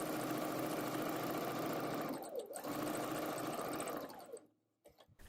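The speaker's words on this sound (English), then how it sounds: "Then you can sew up your center back seam, the large, long, curved seam." A sewing machine stitches the long, curved center back seam of a garment, running steadily and loudly at close range, pausing briefly, then ending with a few short bursts.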